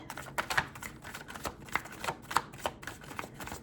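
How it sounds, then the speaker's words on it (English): Tarot cards being shuffled, a quick run of crisp riffling clicks in uneven bursts, close and fairly quiet. "I'm going to shuffle it again 3 times"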